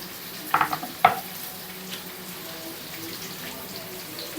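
Okra pieces frying in a pan while being stirred, a steady close sizzle with a couple of sharp scraping clinks near the start, then a soft continuous hiss of oil.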